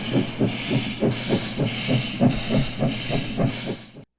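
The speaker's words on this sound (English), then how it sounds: "is steamed up and ready for a trial run before being assigned to a new division" A rebuilt 1921 Baldwin steam locomotive stands steamed up, hissing steadily with a rhythmic chuffing pulse repeating about three times a second, close and fairly loud, with no voices.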